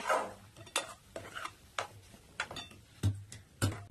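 Sheera with ghee is mixed by hand, producing soft, distinct scraping knocks of a spoon against the pan roughly every half second, close and quiet with no talking.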